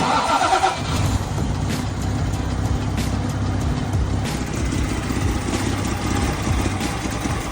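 A 1981 Toyota Supra with a 5M-GE engine, just fitted with new coil and spark plugs but still shaking from a misfire, cranks and then settles into a steady, rumbling idle heard close by.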